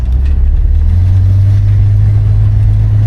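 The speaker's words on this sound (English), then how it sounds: "Motor sounds good." A 1972 Buick Skylark's engine drones steadily while driving at around 40 mph with the windows down, a loud, continuous low rumble with no voices.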